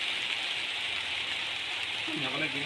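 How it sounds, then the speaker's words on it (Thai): Steady rain falls outdoors as a continuous hiss, with a person's voice briefly joining near the end. "ฝนมาอีกแล้ว"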